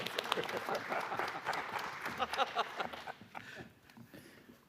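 Scattered audience clapping at an arena stage event as a speaker comes up, moderately loud and uneven, fading toward the end with voices murmuring underneath.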